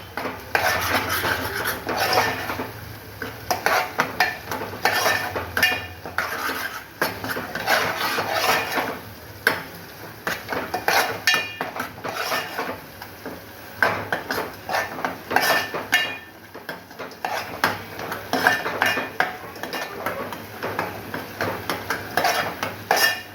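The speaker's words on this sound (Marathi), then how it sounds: "याला चांगलं दोन तीन मिनटं असं भाजून घ्यायचा हलकंसं तेल सुटायला लागतं" Masala being stirred and roasted in a pan with a little oil for a Maharashtrian egg curry, with steady scraping and clinking of a spoon against the pan and sizzling underneath, continuous and close throughout.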